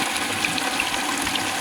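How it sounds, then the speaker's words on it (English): Water rushing steadily through a homemade flow-control setup, a loud continuous hiss and gush close by with no pause or talking. "If I push it forward, I can slow the water flow down."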